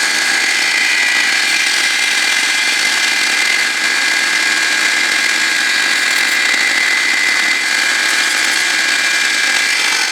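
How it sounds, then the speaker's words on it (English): A belt sander with a super fine belt grinds a brass clutch cable end. The whine is steady and continuous at an even level throughout, with no voices. "Now I want to go clean it up with the belt sander"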